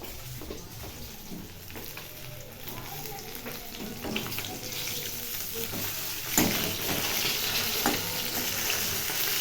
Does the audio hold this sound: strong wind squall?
no